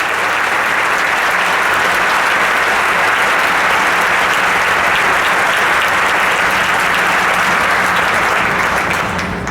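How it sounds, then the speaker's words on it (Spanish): Audience at a talk applauding at length, a dense, loud and even roar of many hands clapping with no voices over it. "quisiera ese aplauso para mis padres"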